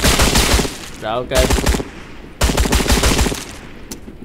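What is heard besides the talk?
gunfire in video game Trans-Siberian Railway Simulator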